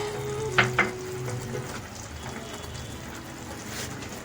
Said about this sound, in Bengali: সেই পেঁয়াজের একটি পেস্ট তৈরি করেছি, ব্রাউন অনিয়ন পেস্ট। সেটি আবার এর মধ্যে আমি মিশিয়ে দেব।